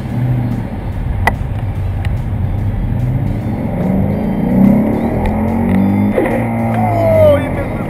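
A 2012 Camaro ZL1 on the move, its engine a steady, loud droning hum with gentle swells in pitch as the car holds its pace.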